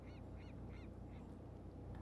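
Birds honk in a quick repeated series of goose-like calls, faint and somewhat distant over a low ambient bed, in a snowy Norwegian setting in the video game Assassin's Creed Valhalla.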